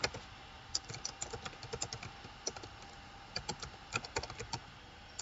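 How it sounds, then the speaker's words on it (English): A name is typed on a computer keyboard in quick, irregular bursts of close, crisp key clicks with short pauses between them and no voices. "type your name, Commonwealth of Virginia."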